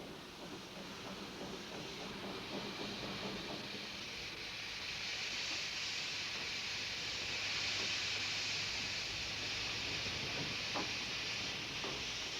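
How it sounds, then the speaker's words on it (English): A Talyllyn Railway steam train makes a slow shunting movement, with a steady hiss of steam and soft rail clatter continuing throughout at moderate distance, plus a few sharp clanks near the end. "John, we're going to do a little shunting movement now"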